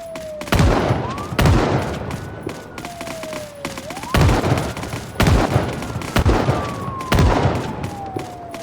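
Gunfire in the zombie survival game Project Zomboid: loud, sharp shots repeat roughly every second in heavy bursts, with a sliding tone running between them.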